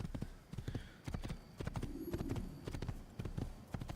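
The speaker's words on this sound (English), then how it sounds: "New horsey." Horse hooves clip-clop in the video game Assassin's Creed, a brisk, regular run of sharp hoofbeats heard close and continuously, with a brief whinny-like tone partway through.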